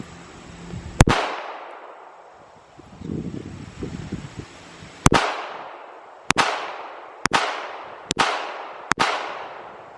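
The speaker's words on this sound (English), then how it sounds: "We just got through a whole magazine on the Baby Rock without a jam." A Baby Rock .380 1911 pistol fires a full magazine outdoors: six sharp, loud shots with decaying echoes, one alone, then a long gap with faint rustling, then five in quick succession.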